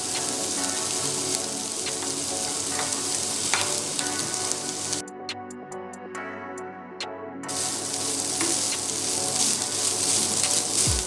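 Cooked rice mixed into sautéed cumin in a pan for jeera rice, loud continuous frying sizzle with stirring scrapes, dropping out briefly mid-way before the sizzle returns.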